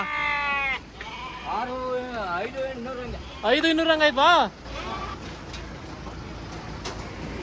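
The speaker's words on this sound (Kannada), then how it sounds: "ಎಲ್ಲಿ ನೋಡಿದ್ರು ಕುರಿ ಮೇಕೆಗಳೇ ಕಾಣಿಸ್ತವೆ" Sheep and goats bleat loudly and close by at the big Saturday livestock market in Akkirampura, with several wavering calls in a row and one long, strong bleat. People talk over the crowd noise in the background.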